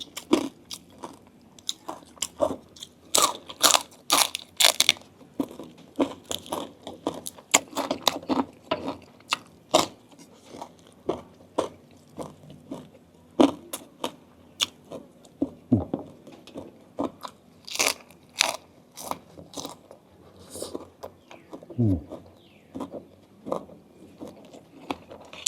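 Crunchy bites and chewing of crispy fried sun-dried pork eaten with jaew bong pla ra dipping sauce, close up, with a steady run of sharp crackling crunches and a quieter stretch of soft chewing toward the end.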